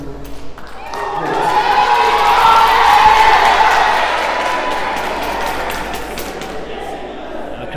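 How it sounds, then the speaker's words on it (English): Crowd cheering at the Uganda Open squash tournament final in 2025: a loud swell of cheers and whoops that peaks midway, then slowly fades into continued applause and chatter. "crowd just electrifying at the moment in this finals"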